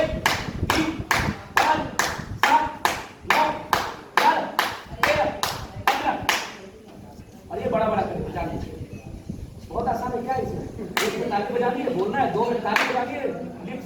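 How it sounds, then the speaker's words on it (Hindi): A group claps in unison during a theatre workshop exercise: about a dozen sharp, evenly spaced claps, then a stretch of scattered shuffling and murmuring voices with a few more claps. "1 2 में ताली को बजाएंगे"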